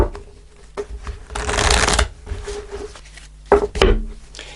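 A deck of tarot cards is shuffled close by: soft riffles and taps, then a dense two-second burst of flicking cards, followed by a few sharper snaps and slides, with no talking.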